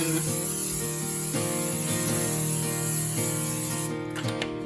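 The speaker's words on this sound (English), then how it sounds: "I take our baking spray and we're gonna spray our pan" A continuous hissing spray from an aerosol can, held steady for several seconds before tapering off, with faint clicks at the end.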